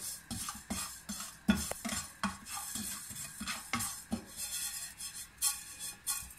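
Cumin seeds dry-roasting in a hot pan are stirred, giving repeated scraping and rattling strokes of a utensil against metal in an irregular rhythm, close and fairly quiet, with a faint crackle in between.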